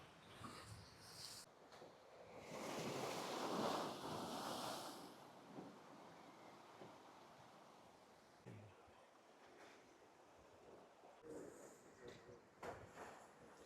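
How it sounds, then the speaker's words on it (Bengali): An ocean wave rushes in and breaks on an island shore, building to a broad roaring wash, then fades into quieter surf and wind buffeting the microphone. "একের পর এক ঢেউ আসছে"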